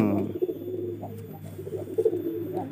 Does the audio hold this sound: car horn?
no